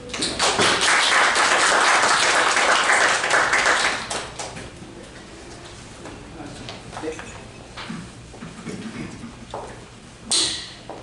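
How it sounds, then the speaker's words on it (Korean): Loud, dense applause from a crowd fills the first four seconds, then fades to scattered claps and quiet room noise, with a brief burst near the end. "큰 박수로 맞아주시기 바랍니다"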